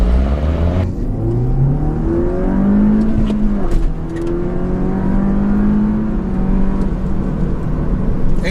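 A 2013 MINI Cooper S Roadster in sport mode with traction control off accelerating hard from a standstill, the engine climbing loudly through the revs with brief dips at each gear change, heard from inside the cabin.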